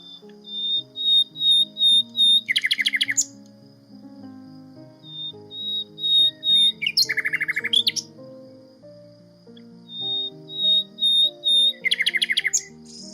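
A common nightingale sings repeated phrases of clear whistles that build into rapid, loud trilling bursts, close and alone against a quiet background.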